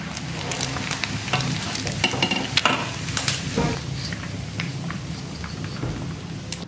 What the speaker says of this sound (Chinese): 驴肉往干炸一点